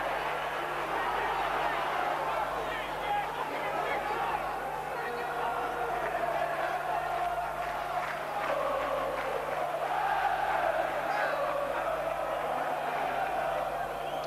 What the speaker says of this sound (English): Crowd now, really, it's not a big one here, but it's really getting behind the men in blue.